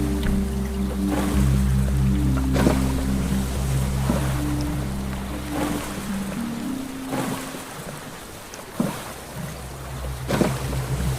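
Low sustained warning tones from the Stranded Deep survival game swell and drop out over a steady wash of ocean waves and wind, with faint splashes near the end and no talk.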